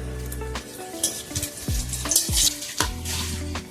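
Bay leaf and dried red chili crackle and sizzle in hot oil in a kadai for a Bengali vegetarian ghonto, a steady close fry broken by several sharp bursts and stirring clatters, with no talking.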